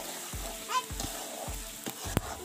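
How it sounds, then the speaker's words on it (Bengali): Masala spice paste frying in hot oil, a steady close sizzle broken by a regular series of low knocks and scrapes as a spoon stirs it around the pan. "ভালো করে একদম ফ্রাই করে নেব মশলাটাকে"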